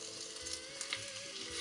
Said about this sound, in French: On les dispose dans la casserole. On va faire dorer un peu